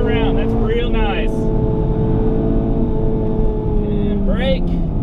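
A Honda Civic Type R, a front-wheel-drive car, drones steadily as it is driven hard on the throttle, with a constant engine hum heard from inside the car while someone talks over it.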